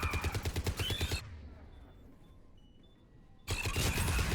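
Bursts of gunfire from the video game Mass Effect 3, loud rapid repeated shots in the opening second, then a quieter stretch of ambient game noise before loud shooting resumes near the end.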